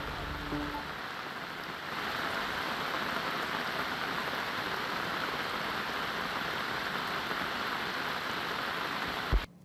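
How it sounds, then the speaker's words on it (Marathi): Heavy monsoon rain falling in Mumbai, a constant hissing downpour that thickens after the first two seconds and runs evenly, ending with a brief knock. "गेल्या 24 तासांपासून मुंबई आणि परिसरात पावसाने वेग पकडलेला आहे।"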